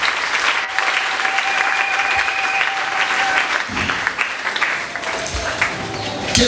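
A church congregation applauds to acclaim the Lord: dense, sustained clapping from a large crowd fills the space steadily for several seconds, with faint crowd voices mixed in.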